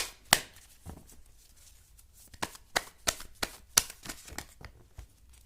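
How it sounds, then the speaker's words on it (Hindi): Tarot cards are shuffled by hand, a series of crisp riffling snaps and soft slaps at uneven intervals, close and fairly quiet, with no talking. "आप लोगों के सामने शफल कर रही हूँ गाइस कार्ड्स"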